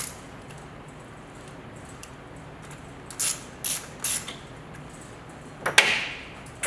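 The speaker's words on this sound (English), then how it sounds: "I've preset my torque wrench to make this easy." A few short ratcheting clicks come from a preset torque wrench tightening an Allen bolt on a Pentruder wall saw during track roller replacement, quiet and sparse over a faint background hum, no voices.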